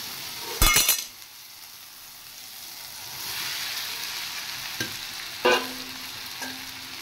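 Fried potatoes and soybeans tipped into frying masala in a pan, a soft sizzle under a few clinks and clatters of a utensil against the pan, close and without speech.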